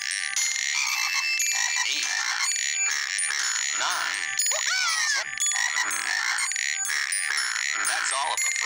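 Frogs croak in a PBS Kids Curious George video game, with steady bright chiming game music and repeated chirpy, warbling croaks layered over it, fairly loud and continuous.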